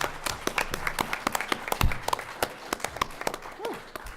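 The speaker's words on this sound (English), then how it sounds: "Let's have a round of applause for John Morton." Live podcast audience at Star Wars Celebration Anaheim applauding a guest, a scattered run of individual claps with distinct sharp hits rather than a dense roar, moderately close, with a few voices calling out underneath.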